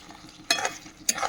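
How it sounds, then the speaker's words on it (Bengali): Meat is stirred in a pot while cooking outdoors, heard as two short scraping strokes close by against a quiet background. "তো মাংসটা রান্না করে নিচ্ছি বাইরে"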